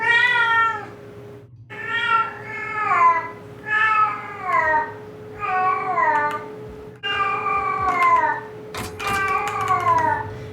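A cat meows repeatedly nearby, about six drawn-out, pitch-bending cries in an uneven rhythm over a low steady hum, with a brief clatter near the end.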